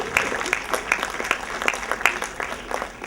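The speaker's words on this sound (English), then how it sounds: "please give them a big round of applause" Audience applause at a CyberSAFE 2017 debate event in Malaysia as the judges panel is introduced, scattered individual claps forming a thin, uneven round rather than a dense ovation.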